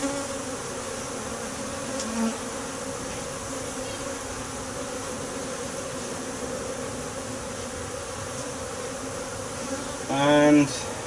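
Honeybees buzz steadily around a brood frame of capped brood and pollen, a close, continuous droning hum with a brief louder burst near the end.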